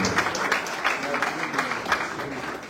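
Church congregation clapping and cheering in praise during a testimony service, a dense steady wash of applause with bursts and voices mixed in throughout.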